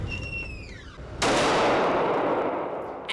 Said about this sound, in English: first time shooting a handgun